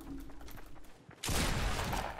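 Fortnite Battle Royale gunfire: faint scattered game noise gives way to a sudden loud dense burst of shots that holds for about a second.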